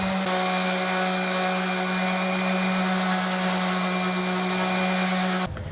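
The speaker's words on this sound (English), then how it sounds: "I'm going to sand it back with the random orbit sander" A random orbit sander runs over a dyed oak slab, giving a steady, loud mechanical whir with a droning hum that holds evenly for about five seconds before cutting off abruptly.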